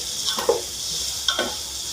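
Onions, tomatoes and ginger garlic paste sizzle softly in a pan for vegetable biryani, with two brief scraping stirs over a steady frying hiss, close and alone.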